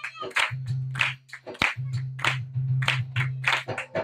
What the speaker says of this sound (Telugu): చప్పట్లు కొట్టి మహిమపరచండి